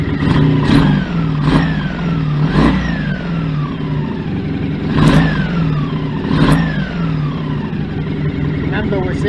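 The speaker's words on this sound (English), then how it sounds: "just give it a bit of a blip, see how quickly he introduces oil pressure back." A Honda VF750F motorcycle engine is blipped repeatedly, each rev rising and falling in a series of sharp bursts over a steady idle, close and loud.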